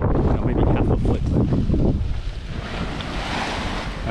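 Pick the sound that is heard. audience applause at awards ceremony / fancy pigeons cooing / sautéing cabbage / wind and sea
wind and sea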